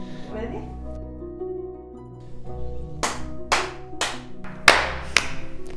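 A handful of sharp hand claps, about six, ring out clearly one after another with a loose rhythm, following a quieter stretch with some faint background voice and room tone.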